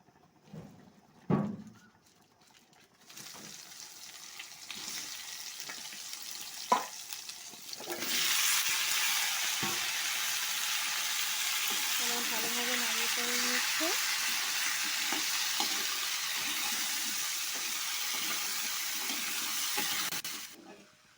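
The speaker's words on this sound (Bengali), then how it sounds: "গোটা জিরে আর গোটা গরম মশলা দিচ্ছি" Whole cumin seeds, dried red chillies and whole garam masala sizzle in hot oil in a home kitchen pan, a loud, steady hiss that bursts in after a few scattered clinks and knocks and runs on evenly until it stops.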